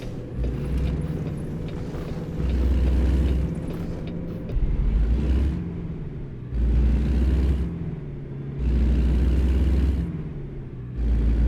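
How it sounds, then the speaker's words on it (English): A truck's Jake brake in American Truck Simulator, a deep, loud mechanical rumble that comes in repeated bursts of one to two seconds with steady engine drone between them. "The sound of the Jake brake."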